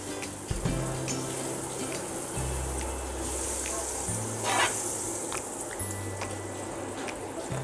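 Butter sizzling in a pan for a masala egg sandwich, a moderate hiss with a low steady hum underneath and a brief louder splash of sizzle midway, no one speaking.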